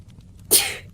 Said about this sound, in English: I'm going to sneeze from that cat